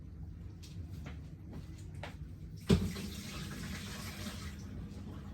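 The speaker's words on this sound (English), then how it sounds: "pour this water down the drain" Water from a jug is poured down a sink drain while a Tommee Tippee Prep Machine baby formula maker is cleaned: a short clunk, then a quiet, steady splashing rush that runs to the end with no talking.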